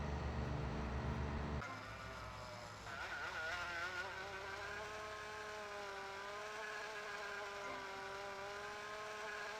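Motorboat engines in GTA Vice City drone steadily with a buzzing, harmonic whine that shifts pitch early on, then holds a continuous high hum, with no talking over it.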